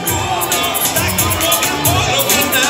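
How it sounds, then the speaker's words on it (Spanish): A large outdoor festival crowd at a Valdivia night event cheers, whoops and claps loudly and continuously, with children shouting and a dense babble of voices throughout. "Démosle un gran aplauso"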